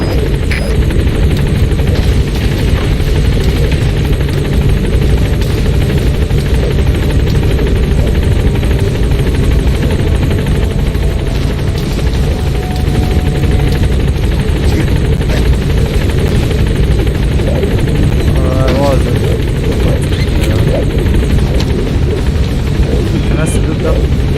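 The Pequod helicopter from the Metal Gear Solid V video game arrives at a landing zone with a loud, steady rotor roar and engine whine that fills the whole stretch, overlaid with muffled radio voices and scattered game effects.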